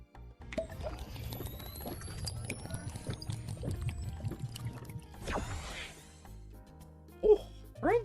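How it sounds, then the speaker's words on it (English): Water is poured into a container, then swallowed in several sips. The sounds are close and moderately quiet, with a sharp pouring swish midway and gulps near the end. "God, I need to drink water."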